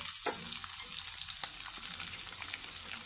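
Ginger-garlic paste and chopped coconut bits fry in hot oil for a prawn roast, giving a steady, close hiss with a few soft pops and stirring scrapes, with no voices.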